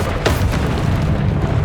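Bombarda and Confringo spell blasts from Hogwarts Legacy fire during combat, a loud booming impact followed by a thick, continuous rumble that stays close and heavy throughout.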